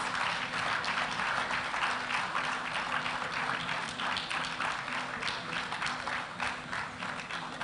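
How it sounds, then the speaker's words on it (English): An audience at a civil service gala and awards night applauds steadily, a dense wash of many hands clapping at once that keeps an even loudness throughout, with no speech over it. "deserve a resounding applause"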